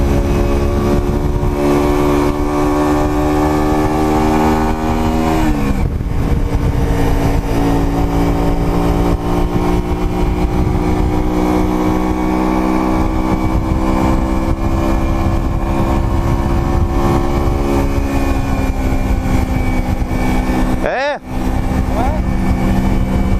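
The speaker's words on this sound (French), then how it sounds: "Elle n'est pas très virulente la moto là, mais ça monte fort." Engine of a Honda Shadow 125 motorcycle being ridden on a hot day with the helmet visor open, a steady loud drone with wind rush, briefly changing pitch as it revs, under occasional talk.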